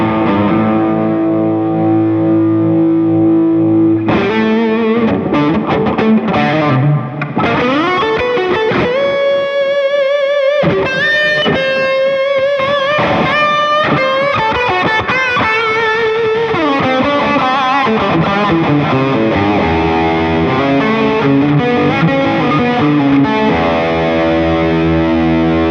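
Overdriven electric guitar, a Les Paul through a Klonos overdrive pedal with gain around 8, playing sustained chords and melodic lines with a gritty, saturated tone, loud and continuous, with no talking.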